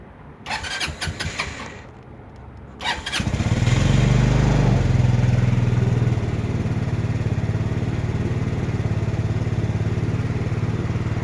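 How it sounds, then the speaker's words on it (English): Sunny Dong Fang reverse trike scooter engine cranking briefly with a whirring starter, then catching and settling into a loud, steady close-up idle that runs on evenly. "I'll just give it a start up here, and I have to hold the brake on this side."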